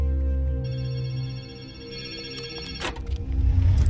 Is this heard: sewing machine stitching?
no